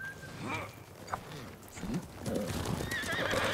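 In the video game Ghost of Tsushima, a horse whinnies loudly up close while hooves clatter along, with a rough, noisy background of movement.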